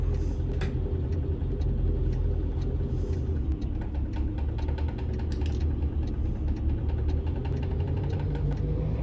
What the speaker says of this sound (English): How about I start the truck first?